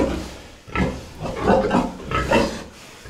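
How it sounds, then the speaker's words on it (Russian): A young pig grunts in a series of loud, close, rough grunts and snorts in irregular bursts, with no speech over them. "Это молоденькая свинка,"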